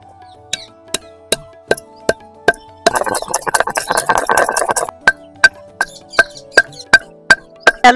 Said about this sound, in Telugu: పై మసాలా నూరుకుందాం దాల్చిన చెక్క వేసుకుందాం